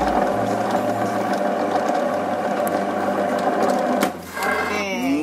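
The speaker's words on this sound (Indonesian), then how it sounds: "langsung kita masukkan ke dalam mesinnya. Nah, dan dia akan otomatis terpotong" A noodle-making machine runs steadily as dough is fed in and cut into noodles, giving a continuous close mechanical whir with a faint low hum, then a brief dip and clatter near the end.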